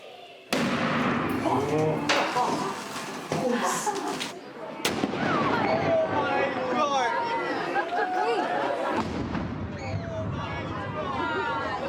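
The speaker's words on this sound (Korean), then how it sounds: "대포 소리와 진동이 모두를 놀라게 할 만큼 그 위력이 대단했다" The noon cannon at Lotrščak Tower in Zagreb fires with a sudden, sharp boom near the start, and a crowd of onlookers keeps talking and chattering loudly around it.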